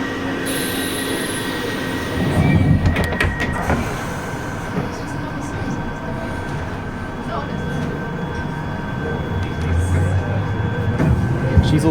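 A London Underground Piccadilly line train runs loudly and steadily, with rumbling wheels, rail clatter and squealing, plus a brief louder surge early on and sustained tonal whines throughout.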